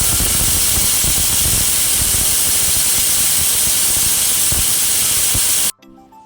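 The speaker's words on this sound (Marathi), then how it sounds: "आता कुकरचं झाकण लावून आपण याला 3 ते 4 शिट्ट्या देऊन घेऊया।" Steady, loud hissing of steam jetting from a pressure cooker's whistle while colocasia leaves (alu) cook on the stove, a continuous spray that runs unbroken for several seconds before cutting off abruptly.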